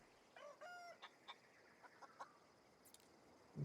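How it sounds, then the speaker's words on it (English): Chicken clucking in a video game, a few short rising clucks and scattered clipped calls, faint and sparse over a quiet background with no speech. "What's that? A chicken?"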